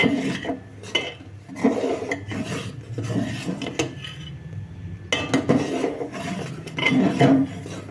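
Rice being stirred into boiling milk for payesh, a metal spoon scraping and rubbing against the pot in repeated uneven strokes, close and fairly quiet with short pauses between bursts.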